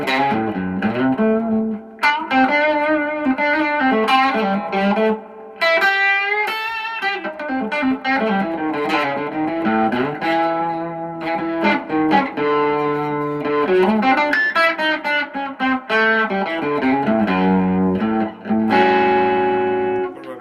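Distorted electric guitar through a Telecaster's bridge pickup, a melodic lead of sustained, bending notes with chordal passages, creamy gain and light effects, played alone with short gaps between phrases.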